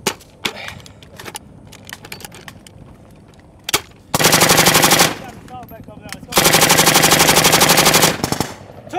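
Machine gun fire during Marine Corps urban assault training: two long, loud, sustained bursts of rapid automatic fire, close by, with scattered single cracks and sharp impacts before them.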